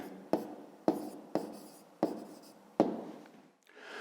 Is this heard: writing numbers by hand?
yes